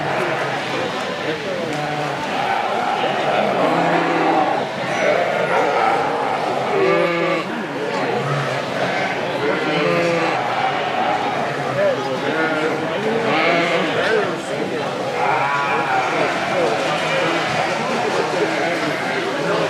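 Sheep and rams bleat repeatedly in a livestock show sale ring at the Ohio Showcase Sale, with the calls rising over constant crowd noise and a loudspeaker announcer talking throughout.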